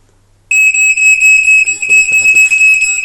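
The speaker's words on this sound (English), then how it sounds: "the alarm that you hear going off is the other alarm" Smoke alarm going off during a fire test: a loud, piercing electronic beep starts abruptly and repeats in a rapid steady pulse, close by, with faint background noise beneath.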